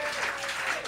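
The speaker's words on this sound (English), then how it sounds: "I'd like to give a big round of applause to Carolyn Brunetto." Brief burst of audience applause at a live comedy show, a dense wash of clapping from a crowd with a voice faintly under it.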